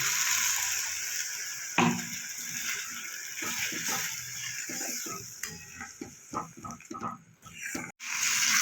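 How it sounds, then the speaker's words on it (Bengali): Water poured into a pan of ground spice paste for spicy cauliflower kosha, bringing crackling sizzle with scraping stirs and clinks of a utensil against the pan, the frying bubbling on throughout. "মশলাটা পেস্ট করেছিলাম সেই মশলায় এই জলটা দিয়ে দেবো"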